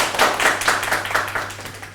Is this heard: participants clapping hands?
yes